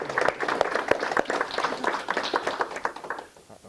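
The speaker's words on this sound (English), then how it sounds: "Let's give Jean a round of applause" An audience applauding a participant at a talk, dense clapping from a group of hands that swells and then fades toward the end.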